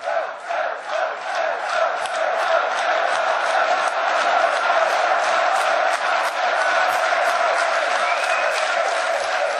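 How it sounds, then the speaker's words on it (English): A large arena crowd at the 2015 League of Legends World Championship cheers and applauds for a player, a dense sustained roar of clapping and shouting that swells early then holds steady throughout. "Rightfully deserving that applause."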